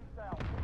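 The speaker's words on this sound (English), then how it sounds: "Tell me if that grenade was close." A single close grenade explosion from the Modern Warfare video game booms briefly, a short deep blast in the middle of a steady game soundscape.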